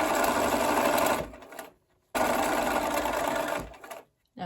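A sewing machine runs in two loud bursts, stitching quilt pieces sewn right sides together from precuts, each burst stopping abruptly with a short near-silent gap between them. Close-up, no voices.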